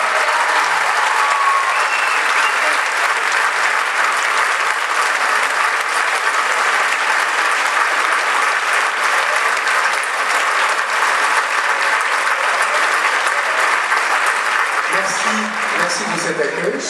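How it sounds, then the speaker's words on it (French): Loud, sustained concert applause in Draguignan, a dense wash of clapping from a large audience that carries on evenly for many seconds, with voices faintly under it near the end. "On applaudit bien fort."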